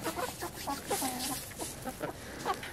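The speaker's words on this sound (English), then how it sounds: "Come here, baby chickens. As you can see, they've been growing like crazy." Young backyard chickens clucking and peeping close by, a steady run of short, soft calls overlapping one another through the whole stretch, with no talk.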